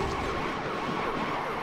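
Wailing electronic siren power-up in the racing game Beach Buggy Racing 2, sweeping up and down over a dense, busy game soundtrack, steady and loud throughout the short burst.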